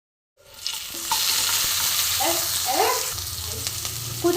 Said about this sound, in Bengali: কয়েকটা রসুন হালকা করে থেতো করে আমি কড়াইয়ে দিয়ে দিলাম। একটু খুব সুন্দর করে ভেজে নেবো এটা।